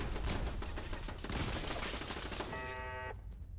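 Automated turrets in Fallout 4 firing rapid, continuous bursts of gunfire, dense and loud throughout, with a brief electronic beeping tone near the end.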